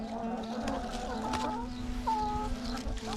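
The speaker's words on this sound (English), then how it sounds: "Hey chickens, there you go." Backyard chickens cluck softly while being fed silver beet leaves, with low murmuring calls and a brief higher squawk against a steady background hum, fairly close and moderate in level.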